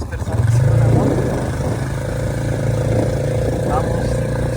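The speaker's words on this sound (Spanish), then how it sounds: "Tenemos aquí un paseo de 3 personas en una moto." A motorcycle carrying three riders through the streets of Collantes, Oaxaca, its engine a low steady rumble with wind noise, fairly loud and close, under someone talking.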